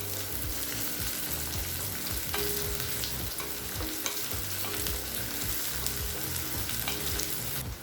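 Onion slices and soya chunks for meal maker Manchurian sauté hard in a pan over a high flame, giving a steady loud sizzle with scraping stir strokes throughout and no talk.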